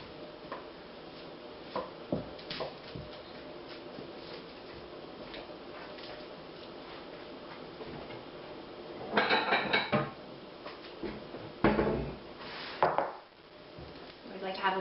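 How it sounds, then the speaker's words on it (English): An onion is sliced with a knife on a board for a warm walnut kale salad, giving a few sharp, close chopping knocks, with clusters of louder cuts later amid quiet kitchen background. "So next we're going to slice our onion"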